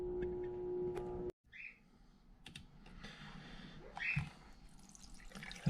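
Water from a copper penny tumbling drum is poured out into a sink, a soft trickling and splashing that swells and fades over several seconds after a short pause, with a few clinks and no voices.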